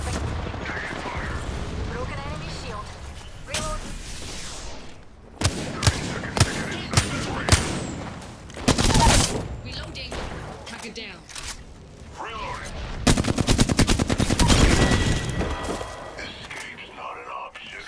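Gunfire bursts in the Apex Legends battle royale shooter, a run of sharp cracks and short volleys with louder clusters around the middle and a dense stretch near the end, mixed with game effects and voice lines.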